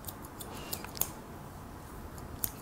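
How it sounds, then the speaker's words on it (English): Scissors cut a man's hair at the back during a low graduated haircut, producing faint, close snips at irregular moments against a quiet background hush, with no talking. "with the left hand used, I will cut backside area like this."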